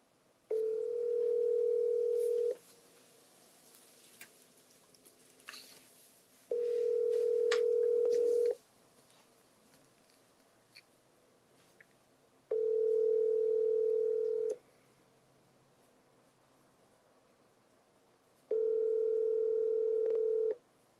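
A telephone dial tone on an outgoing call sounds as a steady mid-pitched ring that repeats four times, each burst about two seconds long and separated by quiet gaps of roughly four seconds, with no voices over it.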